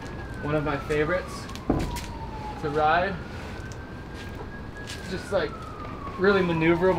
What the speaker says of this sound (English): Sorry about the siren, you guys.